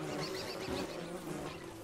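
Bees in the Don't Starve Together video game buzz steadily in a dense, continuous drone that holds close and loud with no pauses.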